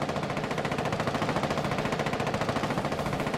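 Rapid automatic gunfire from another player in a Rainbow Six Siege match, a steady rattling burst of shots running continuously for a few seconds at moderate volume.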